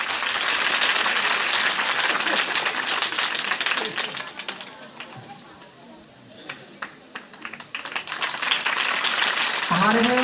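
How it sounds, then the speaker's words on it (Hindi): Loud, sustained applause from a large audience at a public gathering or speech, dense clapping that dips midway and swells again before a voice starts at the end. "ताली लगा, अच्छी ताली लगा, जोरदार,"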